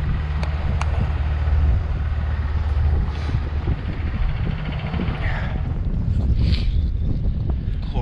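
Wind buffets the microphone in a continuous low rumble, with gusts swelling and easing throughout.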